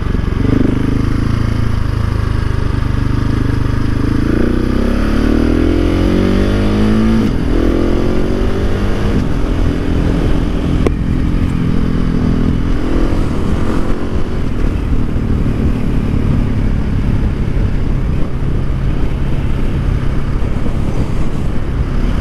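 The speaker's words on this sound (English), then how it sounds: "But yeah, the exhaust just sounds amazing." A motorcycle fitted with a Wings aftermarket exhaust and Rade intake cruises on a highway, its engine droning loudly and continuously with rising revs through gear changes, mixed with heavy wind rush and no speech.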